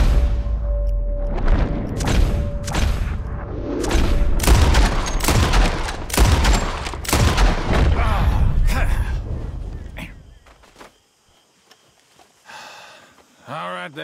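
Repeated gunshots fired at birds in Red Dead Redemption 2, a loud irregular volley of sharp cracks over several seconds with game sound and voices, then near silence with a few faint sounds at the end.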